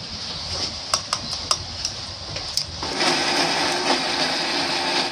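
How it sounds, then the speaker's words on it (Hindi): Mixer grinder whirring as it blends masala for a mutton curry in a home kitchen, starting with a few short pulses and then running as a steady, loud grinding drone. "मसाला हो रहा है रेडी और यह मिक्सर पे जाने"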